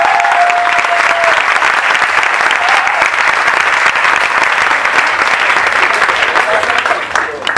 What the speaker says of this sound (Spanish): te mereces un aplauso de parte de todos por este espacio